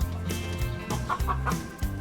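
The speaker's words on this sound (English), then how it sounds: "This thing ain't loud with a chicken in it." A chicken clucking close by in a series of short, choppy calls, a few pitched bursts stacked over a low background hum.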